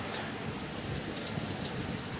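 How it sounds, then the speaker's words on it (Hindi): Rain falls steadily outside in a hill-region home at night, a soft, even, continuous hiss of drops heard from indoors at low volume, with no talk. "देखो यार अभी भी बाहर बारिश लगी है"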